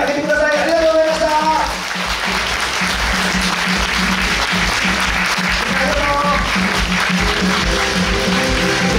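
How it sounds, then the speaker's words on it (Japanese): Loud, sustained audience applause at an idol dance contest regional qualifier, with music playing underneath and brief crowd voices mixed into the clapping. "もう一度大きな拍手で見送ってあげてください"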